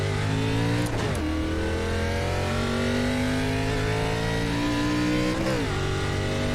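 An ARCA Series race car engine on track at Michigan International Speedway in the video game iRacing, a loud steady high-pitched drone with two brief gear shifts or lifts, close and continuous.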